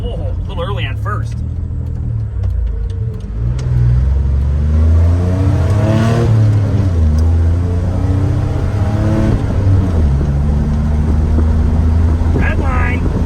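A 1995 Chevy 1500 pickup with a 4.3 engine revs hard toward redline while driving, its loud rising engine drone climbing through gears inside the cab, with someone talking over it.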